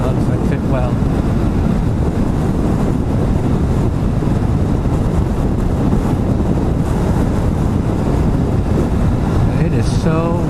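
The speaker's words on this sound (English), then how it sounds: "It is so windy." Constant heavy wind buffeting roars across the microphone while riding a Kawasaki Vulcan S motorcycle up a mountain, a dense rushing blast that swamps everything; a brief voice surfaces near the end.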